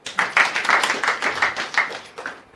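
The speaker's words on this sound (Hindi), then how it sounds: "ताली बजाओ।" A group claps hands together at a satsang gathered in a home, a brisk run of about a dozen loud, evenly spaced claps sounding close and alone.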